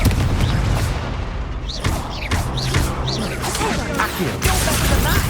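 A Confringo spell explodes during a duel in Hogwarts Legacy, with loud, dense booming blasts and swooping magical whooshes that repeat in quick succession over a constant rumble.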